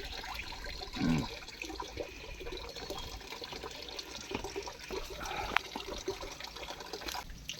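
Water flows and trickles at a reservoir, a faint, steady liquid rush with a few soft splashes and gurgles, heard from close by.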